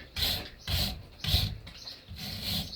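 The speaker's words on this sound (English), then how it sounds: "Let's say all I'm doing is wire brushing." A wire brush scrubs a brake caliper in four or five separate rasping strokes with short pauses between them, close and moderately loud, and no voice over it.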